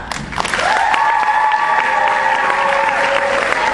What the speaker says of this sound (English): Please welcome the still ugly princess of the palace, Cinderella